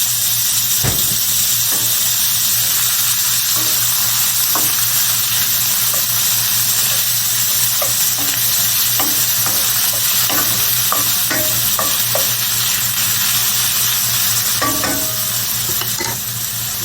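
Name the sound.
saltfish frying in oil, being stirred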